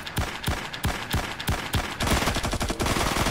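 A gun fires rapidly in IGI 2 Remastered, giving a loud, even string of close shots about four per second. The shots speed into a denser burst near the end.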